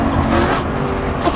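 A straight-piped Aston Martin Vantage, driven fast on an expressway in Japan, roars close and loud, its engine note rising and falling through a downshift in a harsh, raspy blast.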